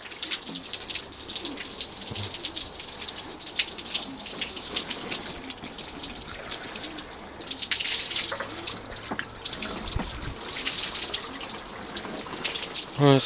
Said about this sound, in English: just rinse the floor off a little bit, I suppose